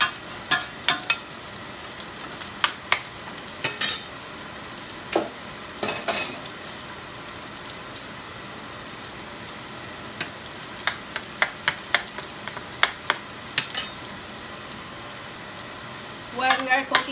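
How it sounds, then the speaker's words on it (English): Garlic frying in a pan for organic tofu with mixed vegetables, a steady sizzle with scattered sharp clicks and scraping stir strokes, louder bursts near the end. "While we are cooking the garlic"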